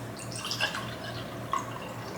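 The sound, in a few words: pouring ginger drink, liquid spilling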